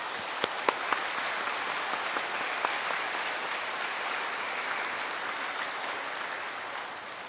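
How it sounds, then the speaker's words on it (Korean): A church congregation at a Sunday service in Seoul's Anglican cathedral claps to welcome visiting pastors and the choir. A few sharp, close claps come first, then many hands join in a full, even applause that tapers slightly toward the end. "힘찬 환영의 박수를 주시기 바랍니다."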